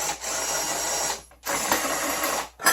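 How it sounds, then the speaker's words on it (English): Screws on a solar street light fixture being loosened with a ratcheting tool, giving two long bursts of dense rapid clicking, separated by short pauses, close and moderately loud. "on the light itself we have just 4 simple screws. So we have to untighten them a little bit"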